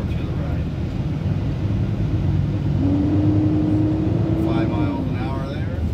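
A truck engine rumbles steadily as the truck creeps forward at about 5 mph, its tone rising briefly before easing off, with a faint squeal near the end as it comes to an easy stop.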